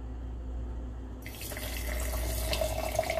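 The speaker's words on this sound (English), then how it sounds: "Okay, let's add this water," Very hot water poured from a kettle into a jar of fenugreek seeds, a steady splashing stream that brightens and rises in pitch as the jar fills, heard alone.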